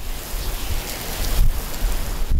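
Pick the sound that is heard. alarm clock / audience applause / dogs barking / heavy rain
heavy rain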